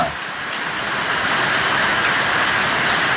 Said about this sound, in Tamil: பாருங்க நல்ல மழை பெய்யுது